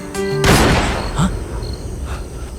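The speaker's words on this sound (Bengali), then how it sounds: "এটা শিওর গুলির শব্দ" A single loud gunshot sound effect in a TV crime drama, a sharp broadband burst followed by a short fading tail, preceded by a brief musical sting and no talking.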